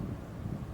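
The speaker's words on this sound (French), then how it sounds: "Ah, il y a un petit peu de vent là." Light wind blows outdoors among potted plants, a soft low rumble of gusts buffeting the microphone, steady and fairly quiet with no voices.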